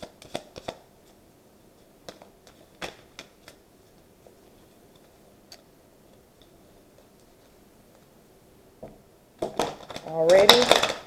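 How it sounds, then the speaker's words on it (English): A deck of tarot cards being handled and shuffled up close, scattered soft clicks and riffle snaps with quiet gaps, ending in a louder burst of card flutter near the end. "I'm just going to shuffle some cards and see what energy we have today."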